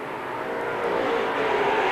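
Race cars roar off at the start of laps at Seekonk Speedway, a loud broadband engine wash that swells steadily over a couple of seconds as the pack accelerates past, without voices.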